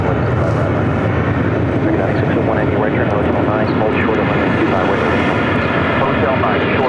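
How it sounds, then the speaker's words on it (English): A Boeing 777 freighter roars down runway 25 left at LAX on its takeoff run, a loud, continuous jet engine rumble that holds steady and fills the whole stretch. "We got that 777 freighter heading to 25 left for a takeoff."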